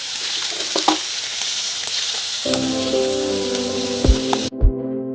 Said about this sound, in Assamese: এয়া মাংস ভাজি আছোঁ